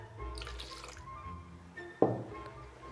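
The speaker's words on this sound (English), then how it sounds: "then if we just get a splash of water" A splash of water poured into whisked eggs for Yorkshire pudding batter, a short sharp pour near the end with quieter kitchen handling beforehand.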